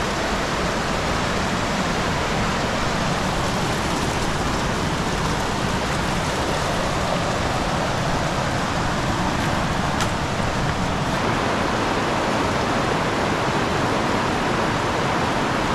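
A fast-flowing mountain river in Old Manali, Himachal Pradesh, rushes in a dense, unbroken roar that fills the whole stretch at close range.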